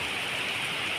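Rain falling in Hyderabad, a brief steady hiss of dense downpour, even and unbroken, with no voices.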